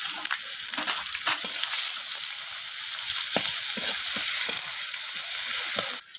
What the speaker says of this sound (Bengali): পেঁয়াজগুলোকে একটু নাড়াচাড়া করে ভেজে নেব, কালারটা চেঞ্জ হওয়া পর্যন্ত